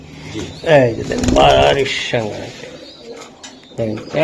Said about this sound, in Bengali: প্রত্যেকটা বাচ্চা কোয়ালিটি একশো একশো মিলি মিলি বুদাপেস্ট কবুতর বেবি নাকি